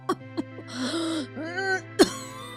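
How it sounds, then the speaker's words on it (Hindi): An elderly grandmother coughs hard in a close, loud series: sharp bursts separated by groaning, gasping breaths and throat sounds, with a steady low hum in the background. "दादी को थोड़ी देर आराम मिला, पर वो फिर से दोबारा तेज खांसने लगी।"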